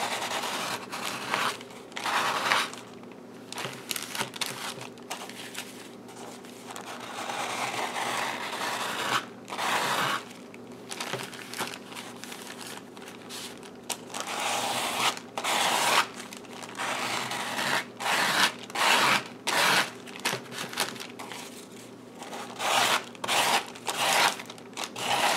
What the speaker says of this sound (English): press down hard and scrape